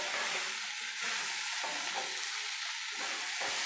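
Bitter gourd and potato pieces frying in a pan over a low flame give off a steady, dense sizzle that runs without pause and sits close and even, with no voices.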